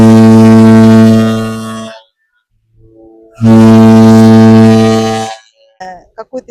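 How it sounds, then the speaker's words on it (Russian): A cruise liner's deep ship horn sounds as it leaves port in San Juan, Puerto Rico: two long, loud, droning blasts separated by a short gap, followed by a few faint brief sounds. "Этим гудком наш лайнер прощается с городом Сан-Хуаном."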